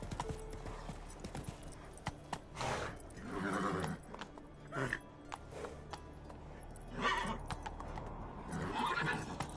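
Roach, Geralt's horse in The Witcher game, gallops with steady clip-clop hoofbeats and lets out several whinnies, moderately close, over a low ambient bed.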